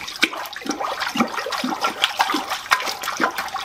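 A hot, hardened hammer lowered back into a shop quench tank of ambient-temperature water gives close, bubbling, gurgling water noise in repeated pulses, with no talking.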